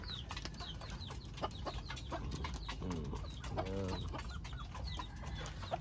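Pigeons and chickens feeding together in a backyard, with frequent bird clucks and soft cooing calls layered over a constant busy rustle, plus a couple of louder repeated calls near the middle.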